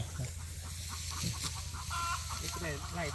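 Hens cluck and cackle while laying eggs on a farm, with several short, close calls in an irregular rhythm over constant background noise.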